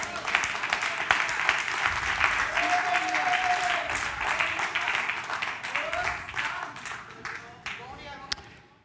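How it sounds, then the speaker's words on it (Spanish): A church congregation at a worship service applauds, a dense, sustained clapping that swells and slowly fades, with voices and shouts mixed through it. "Dale un aplauso al Señor."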